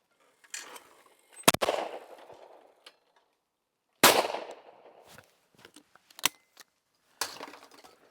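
Shotgun blasts from a Fabarm Infinite RS side-by-side at a clay shooting stand, several sharp, loud reports spaced a few seconds apart, each trailing off into outdoor echo.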